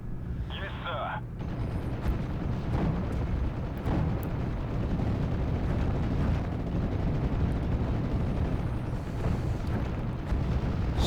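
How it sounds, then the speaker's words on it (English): Artillery in the WWII strategy game Steel Division: Normandy 44 rumbles as a dense wall of distant booms and blasts, a continuous battle din with voices in the game audio beneath it. "German artillery's opening up."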